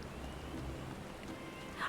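Steady rainfall in the online game Final Fantasy XIV, a soft, even hiss running through the whole stretch at a constant moderate level with no pauses.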